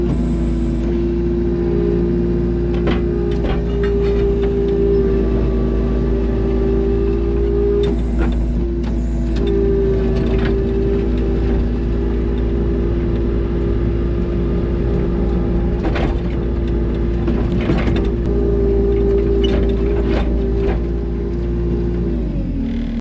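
Farm tractor engine running at a steady, loud idle close by, with a constant low rumble and a whining tone that shifts slightly in pitch, plus scattered clunks and rattles over the top.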